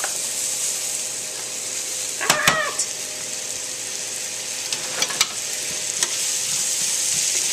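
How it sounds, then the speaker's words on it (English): Sliced apples fry in melted butter in a pan with a steady soft sizzle, broken by a few sharp utensil clicks and scrapes against the pan. "And I'm going to start adding in those apples to the butter."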